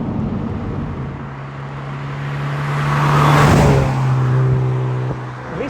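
A Mazda MX5 NC with low mileage drives along a country lane, its engine note swelling steadily as it nears and peaks in the middle, then settling into a continuous road roar, with no talk.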